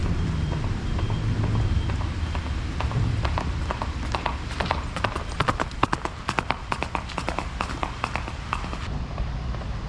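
Horse hooves clip-clop in a quickening run of sharp knocks over the soft noise of falling rain, moderately close, with no one speaking.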